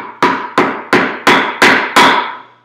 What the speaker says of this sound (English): Hammer that one down as well.